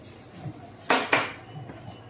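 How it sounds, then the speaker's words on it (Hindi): Metal kitchen dishes and utensils clatter in two sharp, close knocks less than a second apart, standing out against a quiet room with faint background noise. "अभी बैठ के बर्तन की आवाज आई आपको?"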